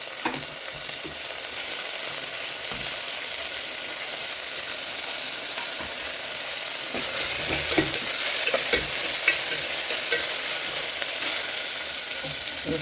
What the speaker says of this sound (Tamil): இப்போ நம்ம தக்காளியும் கருவேப்பிலையும் சேர்த்துக்குவோம்.